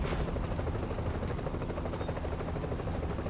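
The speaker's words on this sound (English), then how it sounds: "Helicopter's a little loud." In Tom Clancy's The Division, a helicopter's rotor chop fills the scene with a dense, rapid, steady thudding, close and loud throughout.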